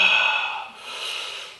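A voice imitates a loud, noisy snorting breath like someone breathing heavily in a meditation hall: one strong airy exhale that fades, then a softer second breath, alone and close.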